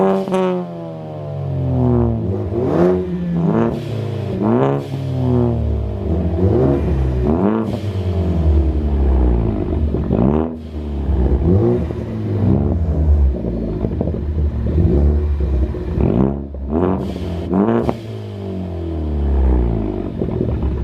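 Two straight-piped Ford Focus ST engines rev together in a rev battle, loud overlapping bursts of rising and falling revs with raspy exhaust crackle, repeated continuously and up close.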